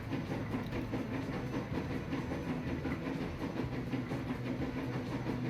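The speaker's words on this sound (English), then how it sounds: "And the train is now going." A passenger train runs in the transport simulation game Transport Fever 2, giving a steady rumbling rail roll with faint clickety-clack under a continuous engine drone and no talking.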